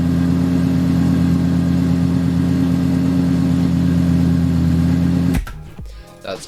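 A car engine idles close and steady with a deep, even hum for several seconds, then cuts off abruptly into quiet with faint handling noises.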